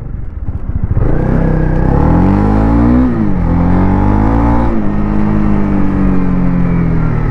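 A 2024 Honda CB300R motorcycle engine revs hard while riding, climbing in pitch, dipping briefly, then holding a loud, close, steady drone.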